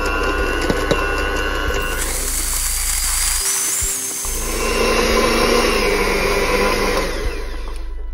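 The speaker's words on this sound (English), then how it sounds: "we want to whisk it until it becomes pale and fluffy" An electric whisk beats glace cherry muffin mixture until pale and fluffy, a loud, continuous motor whine with a buzzing edge that shifts pitch and texture partway through, close up and without talk.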